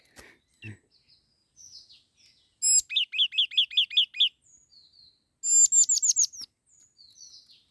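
Wild crested birds fighting in a trap in the forest produce bursts of loud, rapid chirping and trilled calls in quick series, separated by quieter single tweets and short gaps.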